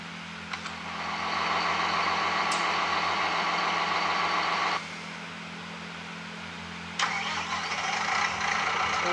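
A tractor engine in Farming Simulator 19 cranks and starts, then settles into a steady, loud mechanical run; it drops briefly partway through before picking back up, and no one speaks.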